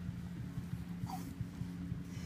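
A hedgehog huffs and growls softly up close, quiet rhythmic puffing bursts repeating over faint background noise.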